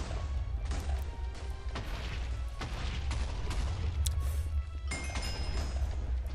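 Explosive arrows go off in a Minecraft match: a steady run of sharp cracks and booms over a dense rumbling bed of game noise, with hits falling quickly one after another and no talk over them.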